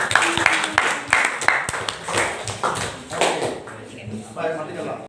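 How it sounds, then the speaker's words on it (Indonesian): Classmates clap for a student in a school classroom, a dense patter of hand claps rising and thinning over a few seconds, with scattered voices mixed in. "tepuk tangan untuk Renata."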